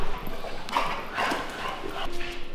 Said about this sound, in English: Oh, hello dog.